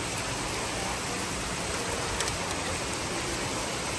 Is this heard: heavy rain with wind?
yes